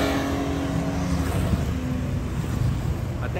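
A Porsche drives past on a city street. Its engine and road noise are a steady, fairly loud rush, heavily mixed with wind buffeting the microphone.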